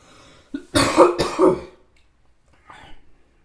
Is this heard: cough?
yes